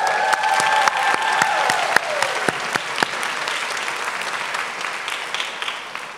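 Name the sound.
audience applause at a high school commencement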